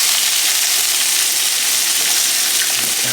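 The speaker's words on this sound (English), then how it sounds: "Oil's starting to shimmer a little bit. Let's get our peppers and stuff in there. Let's see what it sounds like." Peppers and onions hit shimmering hot oil in a pan, giving a loud, steady, hissing sizzle throughout with no talk.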